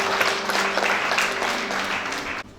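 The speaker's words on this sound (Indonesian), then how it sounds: "Tepuk tangan buat kedua mempelai." Wedding guests applauding the bride and groom, a dense, steady wash of many hands clapping together, loud and close, cutting off abruptly at the end.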